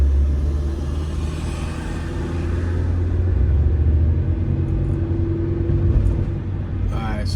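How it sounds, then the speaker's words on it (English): A manual-transmission car pulls away on a city hill in Baltimore, its engine droning loud and steady as it accelerates, with strong low rumble throughout. "I'm on a stick shift vehicle, so I had to pop that clutch quick and give it gas so we didn't shut off."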